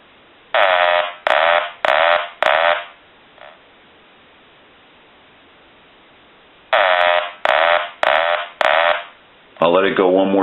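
An old duck-shaped telephone rings loudly in two bursts of four sharp buzzing rings, separated by a quiet pause, followed by a brief different electronic tone at the end.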